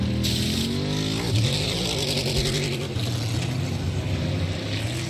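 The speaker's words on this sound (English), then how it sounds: "listen as the rear tire is trying to make traction" NASCAR Cup race car at the 2023 South Point 400 launching from a pit stop, rear tires spinning and fighting for traction, a loud continuous engine roar with wavering revs throughout, close and sustained, no talking.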